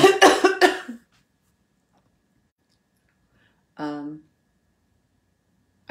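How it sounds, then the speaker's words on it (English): A quick run of three or four close coughs, then silence, followed by a short throat-clearing grunt a few seconds later. "I hear my coughing, right?"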